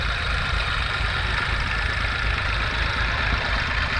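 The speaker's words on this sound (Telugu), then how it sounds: "ఈ మోటార్స్ ఇక్కడ వచ్చి 2 వర్క్ చేస్తున్నాయి ప్రజెంట్. ఒకటి డబుల్ ఇంజిన్." Two water pump motors, one a double engine, run at a flooded construction site at the Amaravati HOD Towers, giving a continuous, even mechanical drone with no talk over it.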